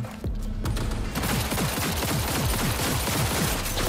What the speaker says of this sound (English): I'm gonna switch a gun and blow off his head